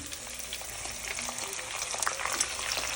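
Onion fries in oil left from browning chicken, a soft continuous sizzle with scattered small pops and crackles, fairly quiet and close, with no talk.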